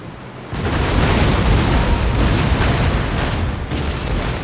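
Warship cannons fire a massive broadside in a Total War naval battle, a heavy rumbling wall of booms that erupts suddenly and rolls on loudly without pause.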